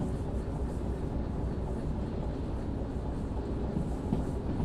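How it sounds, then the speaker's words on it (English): A train rolls downhill in the Derail Valley game, a steady, dense low rumble with no breaks, continuous and fairly loud throughout. "Let's ease this train down."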